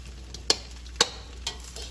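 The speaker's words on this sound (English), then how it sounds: "Keep mixing, keep stirring." Rice and melted butter stirred in a hot pan, with a steady low sizzle and a few sharp scraping clicks of a utensil against the pan at regular intervals.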